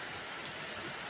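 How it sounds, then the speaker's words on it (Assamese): Heavy rain falls steadily as a dense, even hiss with no break, with one faint tick near the middle. "আমাৰ ফালে ইমান বেছি বৰষুণ দিছে কালিৰ পৰা ধৰি।"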